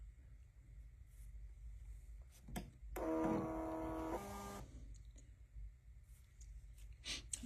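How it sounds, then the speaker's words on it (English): A scale kit's printer runs a short burst of mechanical whirring and clicking as it prints a loaded weight, standing alone for about a second and a half against quiet room hum, with scattered soft clicks before and after. "The weight that was loaded into the feeder will be printed"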